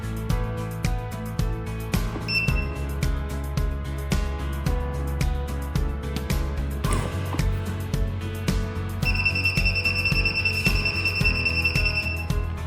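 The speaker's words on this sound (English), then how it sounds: "the device emits continuous beeping sounds" A steady electronic beep tone sounds continuously over a low, constant mechanical hum, breaking off briefly before resuming, from the steering lock of a Yamaha TMAX 560 motorcycle as its lock pin extends.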